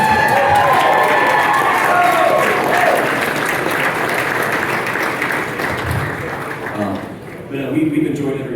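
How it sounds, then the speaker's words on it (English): Applause from an audience at an award ceremony, a loud wash of clapping with some cheering that gradually thins out near the end, with voices mixed in. "feel free to applaud"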